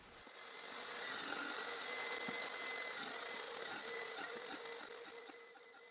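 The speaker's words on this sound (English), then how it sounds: "I will use the table saw sled to get rid of the end of the stiles" Table saw with a crosscut sled trimming the stile ends off old reclaimed door rails, a steady high-pitched spinning whine with a broad whooshing roar that swells through the cut and eases off at the end, no talk.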